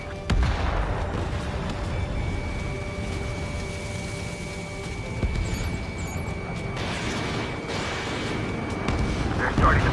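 A missile launches from a fighter jet in the Ace Combat 7 combat flight game, a roaring whoosh layered over constant jet engine rumble and distant explosions, with radio chatter underneath.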